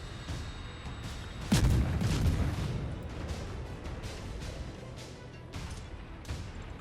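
Naval gunfire in World of Warships as several ships fire HE shells at a Des Moines cruiser: one loud, close boom followed by a dense rumbling barrage and scattered sharper cracks from farther off.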